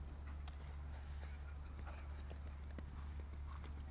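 Horse hooves clip-clopping around a show jumping course at a European championship in Millstreet, Ireland, a faint irregular beat of strides under steady broadband arena and broadcast noise.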